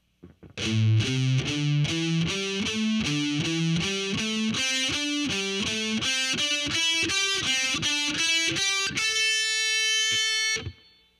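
A slow heavy metal lick on a distorted electric guitar, single notes stepping steadily upward one by one, ending in a sustained held note, loud and close with no talking.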